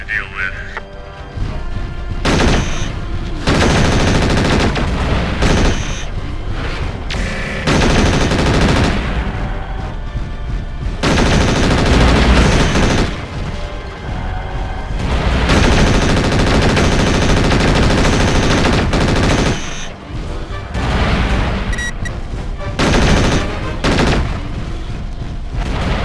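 Mech weapons fire and impacts in MechWarrior 4: Vengeance during a lunar mission, heavy bursts of gunfire and explosions repeating loudly over game music, with radio-style voice lines in places.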